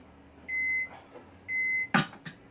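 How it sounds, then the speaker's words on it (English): A kitchen microwave oven emits two clear, evenly spaced electronic beeps, each about half a second long, followed by the click and clunk of its door, close up and with no talking. "that microwave is awesome, give me a sec."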